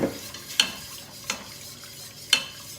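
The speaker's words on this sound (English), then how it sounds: "And keep whisking it so you don't get lumps." A whisk scrapes against a pan as milk is worked into a sauce for beef lasagne, giving three sharp, separate scrapes over a soft, steady background.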